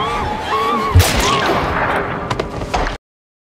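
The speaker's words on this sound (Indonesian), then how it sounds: "tembakan tersebut dilepaskan oleh May." Gunshots ring out in a zombie film scene, a sharp loud bang near the start followed by scattered cracks and rumbling over tense background sound before an abrupt cut to silence.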